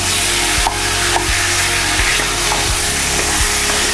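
Marinated mutton sautéing in a hot pan, a steady loud sizzle with faint occasional scrapes and clinks of a spoon, no voices.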